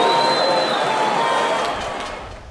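Stadium crowd at a Brazilian football match, Sampaio at home beating Criciúma 3-1, applauding and cheering in a broad, steady wash of noise that slowly fades over a few seconds.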